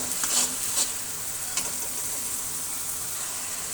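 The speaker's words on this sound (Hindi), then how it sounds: "चॉप प्याज है, मीडियम साइज के 2 प्याज थे जिनको मैंने चॉप कर लिया था और इसको हम फ्राई करेंगे" Two medium onions, chopped, fry in a karahi for a Pakistani achari chicken, giving a steady close hiss and sizzle with a few brief stirring scrapes near the start and no voices.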